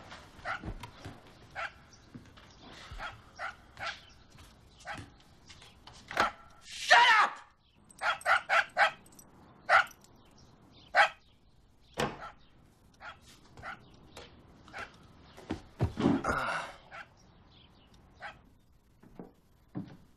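A dog barks in bursts over about twenty seconds, sharp, fairly loud yaps in irregular clusters with quiet gaps between, some faint talk in the background.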